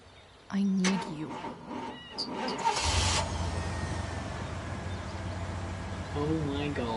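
An old pickup truck engine cranks and catches in Life is Strange: Before the Storm, first clanks and sputters, then a steady, rumbling idle that holds to the end, with a voice talking briefly near the start.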